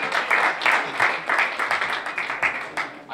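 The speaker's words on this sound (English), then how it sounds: "Give him a round of applause." An audience at an event at the Trane Studio claps in a close, lively round of applause, dense overlapping hand claps surging in waves for a few seconds.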